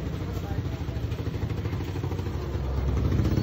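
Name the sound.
tricycle (motorcycle with sidecar) engine idling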